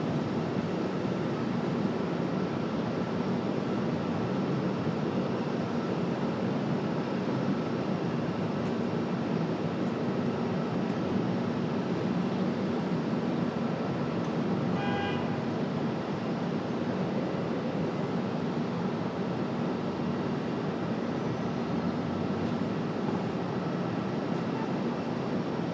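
A Delta airliner arriving from Minneapolis at Raleigh-Durham airport, its broad jet roar a steady, even wash of engine noise heard from a distance for the whole span.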